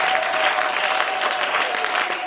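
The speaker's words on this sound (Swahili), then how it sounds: "Pigia Bwana makofi mazito ya kiroho." Church congregation clapping hands together during a worship service, a dense steady patter of applause from many people close by, continuous and fairly loud throughout, with a faint sustained tone beneath.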